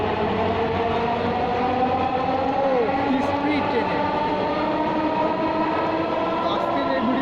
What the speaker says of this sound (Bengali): ট্রেনটা এমাত্রই ছেড়ে গেল